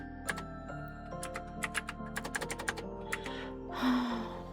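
Fast keystrokes on a computer keyboard during bookkeeping work, an irregular run of close, crisp clicks over a steady low hum, ending in a brief soft rustle.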